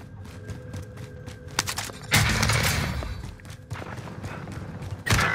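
Gunfire in the Call of Duty: Modern Warfare video game, a burst of rapid shots followed by scattered thumps and bangs, fairly loud and close, with a second sharp burst near the end.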